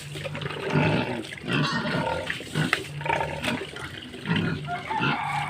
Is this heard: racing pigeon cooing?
no